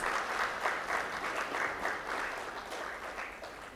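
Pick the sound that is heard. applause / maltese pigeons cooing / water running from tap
applause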